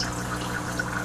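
Auto top off system refilling a saltwater aquarium, a steady close wash of running and trickling water with occasional drips, continuous and even throughout.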